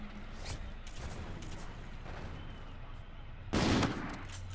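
Sniper rifle shots ring out in Call of Duty: Infinite Warfare, several sharp cracks spaced through the stretch, with one louder, nearer blast standing out toward the end over steady game ambience.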